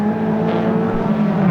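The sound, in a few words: Toyota MR2 race cars racing at Rockingham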